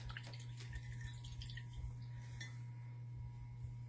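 A paintbrush rinsed in a water jar while painting abstract blooms, a short run of clinking taps and watery swishes over a steady low hum, fairly close, with no talk.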